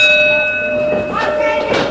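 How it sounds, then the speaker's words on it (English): A ringside bell at a Big Time Wrestling match rings with a steady, sustained metallic tone that decays slowly over a quiet arena background. "The bell sounds."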